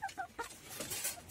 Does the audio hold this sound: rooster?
yes